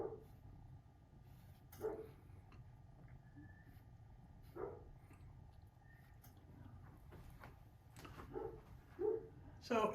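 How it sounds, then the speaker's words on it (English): Dog barking outside at a distance, several faint muffled barks scattered over a low steady background hum. "hear my lovely dog outside barking?"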